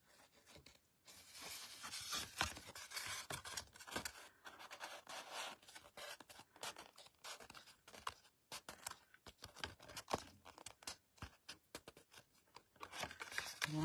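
Paper card stock for a Stampin'Up! card is cut with a quick run of crisp snipping and scraping noises, faint and close, with a few soft sounds of handling.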